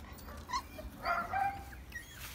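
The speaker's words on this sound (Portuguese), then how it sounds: "Um monte de cachorrinho no meu pé." Several puppies whimper and yip softly around a person's feet, with faint high whines coming and going against a quiet background.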